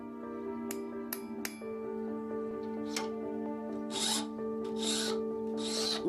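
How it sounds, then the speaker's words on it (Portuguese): Hammer and chisel cutting a prepared metal sheet: a few sharp metallic ringing strikes followed by several rasping, scraping blows, with sustained tonal ringing lingering underneath throughout. "tiveram que cortá-lo com um martelo e cinzel."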